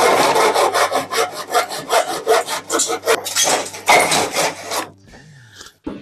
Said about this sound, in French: on va couper 2 tasseaux de 28. Moi, j'utilise une boîte à onglets